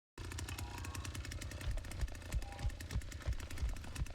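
Chainsaw revving in the Texas Chainsaw Massacre video game, a loud, continuous, rapidly pulsing motor rattle that runs throughout with fast rhythmic bursts and no talking.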